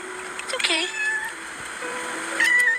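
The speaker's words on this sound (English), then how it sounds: "That's a cute kitty." A yellow cat meows a few times nearby, short rising and falling cries heard outdoors at a parking lot by the shore, with someone talking over and between the meows.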